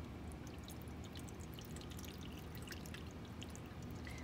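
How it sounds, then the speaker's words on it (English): Water pours steadily into the tank of a Whirlpool WPEC12GW evaporative swamp air cooler, a continuous close splashing trickle with no talking. "So I'm gonna try adding some water."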